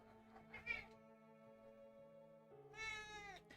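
A cat meows twice: a drawn-out meow near the start and a longer, louder one near the end, both over a steady, tonal background hum.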